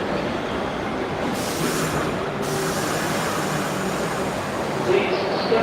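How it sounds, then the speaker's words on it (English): A New York subway local train rumbles steadily into the 59th Street station in Manhattan with a broad roar and metallic rattling, growing slightly louder near the end, with faint voices beneath. "Here comes our local train."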